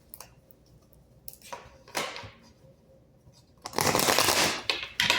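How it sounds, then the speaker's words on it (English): Cards are riffled and shuffled in several quick bursts, ending in a loud, sustained ruffling flurry close to the listener. "Let me shuffle this one more time."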